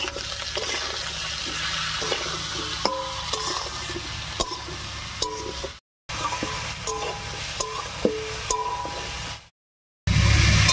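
Taro and potatoes fry in a pan in a Bengali village kitchen, with a steady broadband sizzle broken by clinks and scrapes of stirring, two brief silent gaps, and a louder sizzle resuming at the end; no one talks.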